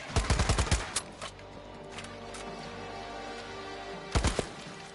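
Rapid bursts of gunfire in a zombie video game: a quick volley of loud shots at the start and another short burst near the end, with quieter game ambience between.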